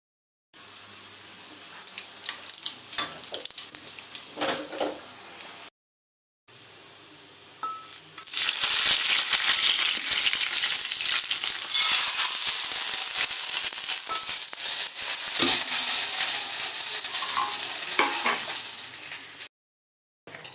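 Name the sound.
spices tempering in hot oil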